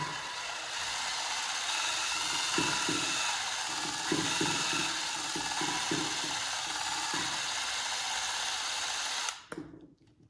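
A power drill with a brush attachment whirs and grinds steadily against a metal Toyota 2JZ cylinder head, with faint rhythmic scuffing, then cuts off abruptly near the end.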